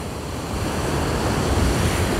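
Waves break on the Azov Sea shore at Peresyp in October: a steady, loud wash of surf mixed with wind rumble, continuous and with no voices.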